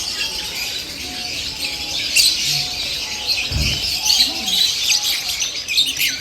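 Harsh, raucous blue-and-gold and red-and-blue macaw calls and squawks ring out repeatedly at Darjeeling Zoo over a busy background of chirping birds, fairly loud and near.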